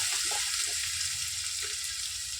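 Chopped onion and garlic paste frying in hot oil for a fish curry, a steady close hiss of sizzling with a few soft stirring knocks, no voices.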